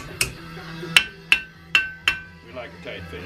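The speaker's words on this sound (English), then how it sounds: "Gonna have to hammer it a little bit, probably." Five sharp metallic hammer blows strike a car part being driven into a tight fit in a Corvair racing shop, spaced roughly every half second, followed by softer tapping and handling noises.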